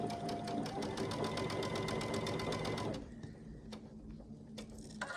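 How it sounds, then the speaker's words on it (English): Sewing machine running a quarter-inch seam on a scrap quilt, a fast close rhythmic stitching clatter for about three seconds before stopping, followed by quieter handling sounds. "Now down this side, I'll stitch 1/4 of an inch."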